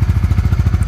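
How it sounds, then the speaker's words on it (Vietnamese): Exhaust of a 2022 Honda Winner X motorcycle heard close up, a brief burst of rapid, regular low thumping pulses from the pipe at idle. "Còn đây là tiếng bô này."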